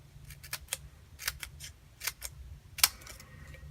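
Scissors snip through a sheet of adhesive pearl embellishments for a designer-paper craft project, giving about a dozen short, crisp cuts in an uneven rhythm, close and fairly quiet, with no talking.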